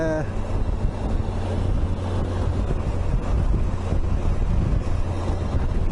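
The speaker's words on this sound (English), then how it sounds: "oh, it's quite windy, it's blowing me to the side." Strong wind buffets the microphone with a constant loud roar, broadband rumble and gusty blasts filling the whole stretch.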